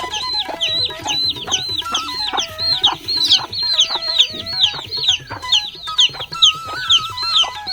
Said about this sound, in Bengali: আর মুরগির বাচ্চার কিচিরমিচির তো আছেই